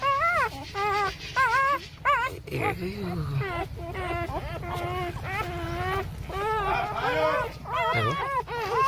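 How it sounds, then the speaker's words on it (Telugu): Newborn puppies only a few days old whimper and yip in a series of short, high, wavering cries. Someone talks over them throughout. "కుక్క పిల్ల అయితే ఇట్లా వేస్తున్నాయి చూడండి ఇవన్నీ"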